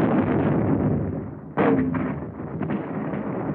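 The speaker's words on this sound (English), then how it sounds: "Our own artillery was brought to fall within 100 yards of our front line elements." Artillery fire in a WWII battle film: a loud, sustained rumbling roar of shelling with a sudden heavy blast partway through, followed by further booming thuds, all dense and muffled like old film sound.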